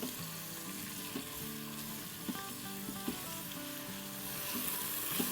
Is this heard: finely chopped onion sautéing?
yes